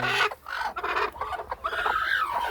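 Free-range village chickens cluck and squawk continuously nearby, a busy overlapping flock chatter with no talking.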